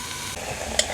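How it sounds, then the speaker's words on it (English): Sliced apples sizzle in a frying pan while being stirred now and then, a continuous close hiss of frying with a small clink near the end. "Hear the sizzling?"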